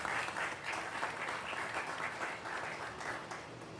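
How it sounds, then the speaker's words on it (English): Audience applause at a ribbon cutting ceremony for the Tremont Flats redevelopment: steady, dense clapping from a sizable crowd, loud and sustained for about four seconds without talk. "Please give a big round of applause to Director of Economic Development, Joe Fest"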